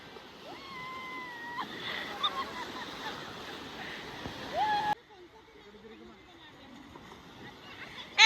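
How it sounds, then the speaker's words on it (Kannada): Sea waves wash in at Kumta beach, a steady broadband rush of surf that swells and then drops back. Family voices and shouts carry over the water noise. "ಬಂತು ಅಲೆ ಬಂತು ಅಲೆ."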